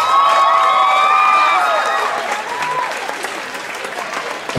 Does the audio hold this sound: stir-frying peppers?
no